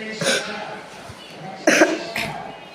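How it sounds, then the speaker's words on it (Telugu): Coughing from a player who is unwell while streaming a Roblox hide and seek game, heard as a few short close bursts, two or three separate coughs spread across a couple of seconds over faint background noise. "దగ్గు వచ్చింది."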